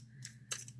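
Scissors make two quick, crisp snips close by, the second sharper, cutting during a paper-crafting stamping session, against a quiet background hum.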